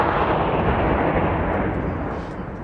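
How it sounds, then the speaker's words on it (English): Sustained barrage of mortar and bomb blasts pounding mountain positions during combat, a dense, continuous roar of overlapping explosions, loud and close, slowly easing toward the end. "The bombs and mortars are falling simultaneously on both of the mountains."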